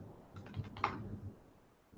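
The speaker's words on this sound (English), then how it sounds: "So if I start typing" Typing on a computer keyboard while demonstrating a React search interface, a run of light key clicks with one sharper tap, close and fairly quiet over a low background hum.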